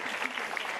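Brief burst of dense audience applause at a stand-up comedy show, steady and fairly loud across the short moment with no voices on top.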